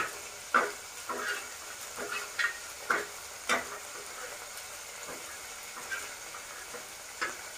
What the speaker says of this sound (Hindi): तर बोंबील आहे ते चांगले भाजून घ्यायचे, फ्राय करून घ्यायचे व्यवस्थित